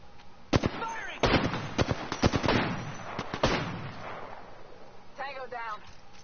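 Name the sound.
gunfire in the video game Apex Legends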